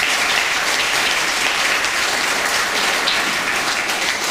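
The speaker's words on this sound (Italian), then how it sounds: "Chiedo un applauso per la San Vincenzo." Sustained applause at a centenary celebration in Saronno honouring the San Vincenzo charitable society, many hands clapping in a dense, even wash that carries on loudly from start to finish.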